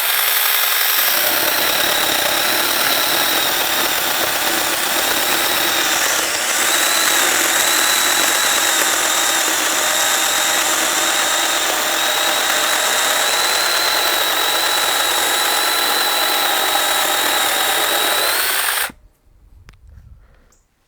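A small 6-inch mini chainsaw cuts through a clamped 2.5-inch-thick piece of wood with a loud, steady high-pitched whine that barely changes, then cuts off abruptly near the end, leaving near silence.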